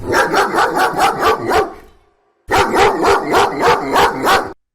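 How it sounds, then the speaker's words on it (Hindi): A dog barks loudly in quick repeated bursts, a steady rhythmic run of barks, a brief silence, then another equally loud run of barking. "कौए के उड़ जाने पर कुत्ता और नीचे उतर आया और पहलवान की ओर मुंह करके भौंकने लगा।"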